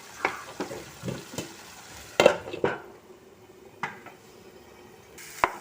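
Chicken gizzards being stirred in a pan, with a faint sizzle underneath and a series of sharp scraping and clinking hits of the spoon against the pan at irregular intervals.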